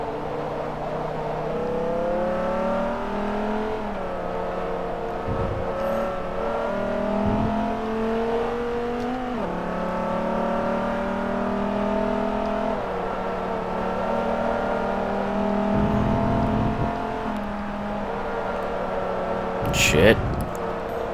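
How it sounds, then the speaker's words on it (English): Engine of a Dodge track day car in Forza Motorsport 3 drones and revs through gear shifts during a racing event, pitch climbing and dropping repeatedly, with someone talking over it and a brief impact near the end. "I'm driving a track day car in a track day event."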